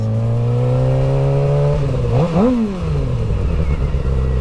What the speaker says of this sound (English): This bike sounds nice.